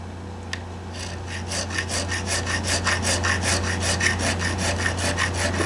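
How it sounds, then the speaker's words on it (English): Stumac pillar file rasps back and forth over the frets of a 1983 G&L guitar neck, a steady series of close, rhythmic scraping strokes over a low constant hum. "And I like to use the pillar file from Stumac."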